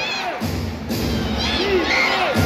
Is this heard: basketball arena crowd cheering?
yes